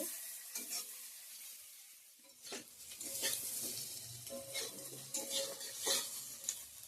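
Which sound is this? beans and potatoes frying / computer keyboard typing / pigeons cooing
beans and potatoes frying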